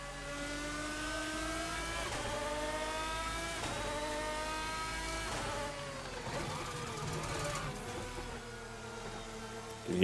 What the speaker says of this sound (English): You can hear my whole rig shaking thanks to that direct drive wheel.